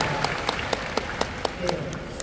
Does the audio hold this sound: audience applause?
yes